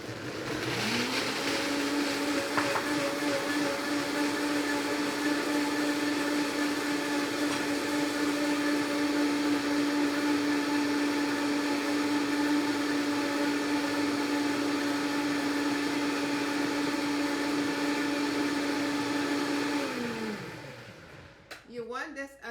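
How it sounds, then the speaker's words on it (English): A blender whirs steadily as it purées raw cauliflower into a cream, a loud, constant motor drone holding for about twenty seconds before winding down near the end, with no speech over it. "So let's get blending."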